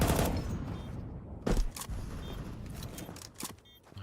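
Pistol shots crack in quick irregular bursts during a competitive Counter-Strike 2 esports match, several sharp reports spaced across the stretch over a busy background of game noise.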